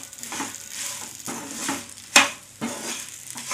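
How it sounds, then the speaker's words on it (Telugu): Green chillies with salt sizzling in a pan while a spoon stirs them in repeated scraping strokes, with a sharp metallic clink partway through and a steady frying hiss underneath. "ఇవన్నీ మొత్తం ఇక్కడక్కడ ఫ్రై అయిపోయింది చూసారా"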